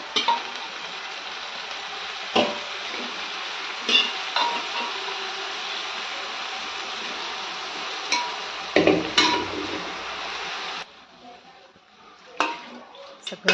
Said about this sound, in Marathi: आणि आता हे छान असं तांदळासोबत आपण मस्त मिक्स करून घ्यायचं आहे.